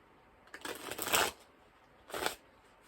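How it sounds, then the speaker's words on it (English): Two quick bursts of tarot cards being riffled and shuffled close by, a longer flutter followed by a shorter one after a pause. "I'm going to shuffle, hang on."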